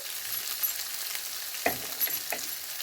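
Potatoes with cumin and coriander cooking in a pan, giving a soft steady sizzle with a few brief stirring scrapes and light clinks, quiet and close.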